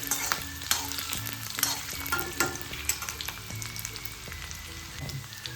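Prawn mixture being stirred in a hot pan, with a steady oil sizzle and repeated scraping strokes of the spoon against the metal, close and fairly loud, with no voices.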